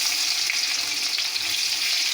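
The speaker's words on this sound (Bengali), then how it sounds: "পেঁয়াজটা ভালো করে লাল লাল করে ভেজে নেব।" Onion fries in hot oil alongside whole spices (dried chilli, cardamom, cloves, cinnamon and cumin), giving a continuous close, bright sizzling hiss with soft crackles and no talking.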